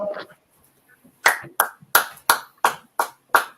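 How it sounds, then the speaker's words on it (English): Seven sharp hand claps ring out in an even rhythm after a moment of quiet and a few faint sounds, each clap crisp and close. "Clap it up."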